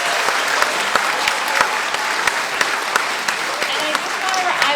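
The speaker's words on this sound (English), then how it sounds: "give our winners a round of applause again too." A crowd at an art and poetry awards celebration gives its winners a round of applause, loud, steady clapping with occasional sharp nearby claps and faint murmuring voices underneath.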